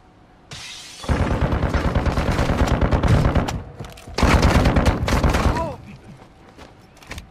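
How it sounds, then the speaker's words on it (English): Loud, close automatic gunfire in a squad-based shooter video game comes in two long rapid bursts separated by a short pause, with sharp cracks and booming low-end impacts. "That was the rat-a-tat-tat that we were hearing."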